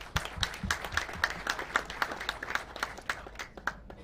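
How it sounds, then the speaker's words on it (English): Conference audience at a climate summit applauding, a crowd of fairly quiet hands with distinct individual claps in a steady patter throughout. "round of applause, please."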